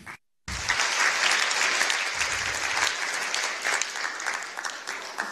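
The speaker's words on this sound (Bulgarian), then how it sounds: "вашите аплодисменти за Боян!" Sustained, dense applause from a lecture audience welcoming a speaker to the stage, steady and loud for several seconds after a brief silent gap, with no speech over it.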